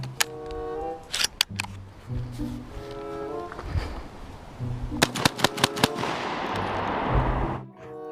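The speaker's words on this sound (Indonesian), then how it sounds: "Wah, lihat, ini senapan angin." A toy air rifle fires a series of sharp popping shots in irregular bursts, some single and some in quick clusters, mixed with clattering handling noises and a long hissing rush near the end.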